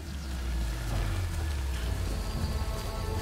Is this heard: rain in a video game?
yes